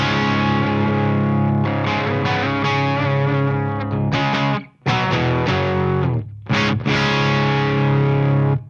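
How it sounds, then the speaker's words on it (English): A Les Paul electric guitar played through a Soldano Astro 20 amp on a crunch setting with EQ, presence and gain at halfway, ringing out loud sustained distorted chords with a couple of brief pauses between strums. "It's a good crunch, particularly with some reverb and delay."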